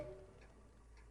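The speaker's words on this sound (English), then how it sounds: "Like that ticking, I can hear the ticking." A clock in the video game Spirit Hunter: NG ticks faintly and evenly in a quiet room, with no one talking.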